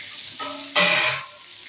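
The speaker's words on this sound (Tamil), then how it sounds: "இப்போ தண்ணி ஊற்றலாம்." Water poured into a pan of fish curry in a home kitchen: a short trickle, then a louder splashing pour lasting about half a second before it fades, close and alone.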